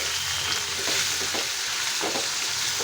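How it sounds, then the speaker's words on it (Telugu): Cucumber pieces fry in hot oil with a dense, continuous sizzle, close and loud. Soft scraping stirs cut through it now and then. "ఈ విధంగా దోసకాయ ముక్కల్ని వేసేసుకొని ఆయిల్లో ఫ్రై చేసేసుకోవాలి"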